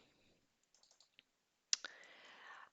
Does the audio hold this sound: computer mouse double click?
yes